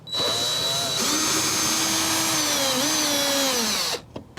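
A power drill with a square head bit whirs steadily for about four seconds while backing screws out of an RV stove vent cover, then stops abruptly, followed by a few small clicks.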